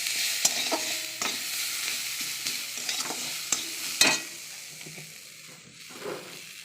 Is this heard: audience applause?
no